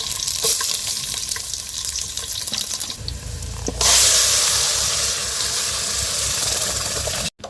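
Mustard seeds, then crushed garlic, sizzle in hot oil for a village-style sambar tempering: a steady crackling hiss that bursts into a louder, brighter sizzle halfway through and keeps going alone.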